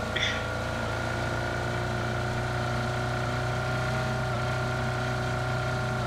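Motorcycle engine in the PUBG battle royale game drones at a steady pitch, a continuous close mechanical hum with a brief higher blip near the start, no talk over it.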